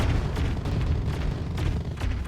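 A sentry blows up in the strategy game Artificial Extinction, producing a dense, sustained roar of explosion rumble with layered bursts and booms continuing throughout at steady loudness.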